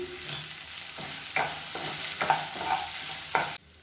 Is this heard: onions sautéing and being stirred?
yes